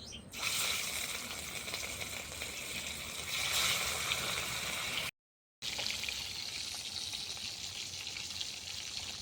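Rohu fish frying in oil over a clay stove, a steady close hiss of bubbling oil that continues evenly, cut by one brief moment of silence before resuming.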